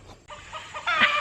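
Chickens cluck nearby, a few short throaty calls rising into a louder squawk near the end, with a quiet background.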